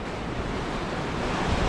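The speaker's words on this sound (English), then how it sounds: "There's some serious strong gusts." Strong wind gusts on an exposed mountain slope roar as a loud, steady broadband rush with no gaps, pressing directly on the microphone.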